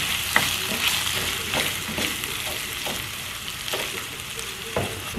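Carrots, potatoes and chicken bouillon cubes stirred in a pot for red rice, with a spoon scraping in repeated strokes over a steady close sizzle of frying, no talking.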